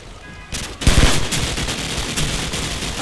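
Bursts of rapid gunfire in Call of Duty crackle loudly, with heavy shots and continuous rattling fire sustained over a noisy battle background.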